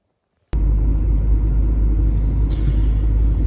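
Inside a car heading home after a fuel stop, a deep steady engine and road rumble starts abruptly and continues loud and unbroken, with no talking.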